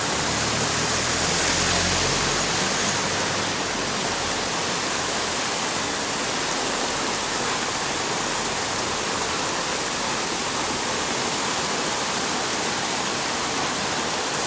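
Flash floodwater rushes loud and continuous through the streets of Mae Sai, Thailand, a dense, unbroken roar with no voices over it.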